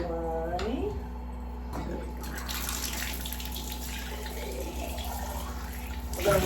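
Hot water running steadily from a tap through a glass piece during cleaning, a continuous close splashing flow with a brief knock partway and clatter at the end.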